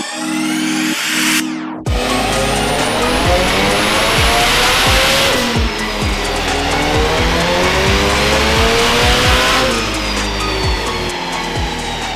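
A K-swapped Mazda RX7 on boost is run on a dyno, its engine howling up through rising harmonics in loud sweeps after a short cut, with pops and crackles along the way, close and unbroken by speech.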